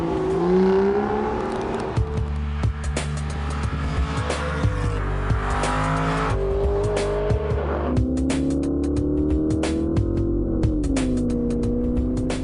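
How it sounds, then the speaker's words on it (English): An Aston Martin Virage convertible with a 490 bhp engine drives through the countryside, its engine note rising and falling steadily as it accelerates and shifts, close and continuous, with wind and road noise throughout. "Aston Martin is now bringing me a Virage convertible for an afternoon drive in the countryside"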